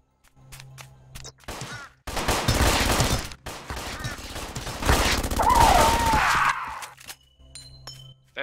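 SMG fire in the sci-fi video game Grav, a loud burst of rapid automatic shots with clinking, glassy debris, then a second longer sustained volley, with quieter game sounds before and after.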